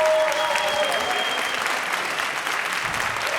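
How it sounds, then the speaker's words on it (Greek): A live stand-up comedy crowd gives steady, loud applause for an opening act, a dense wash of clapping with a voice faintly over the start. "Και ένα πολύ μεγάλο χειροκρότημα"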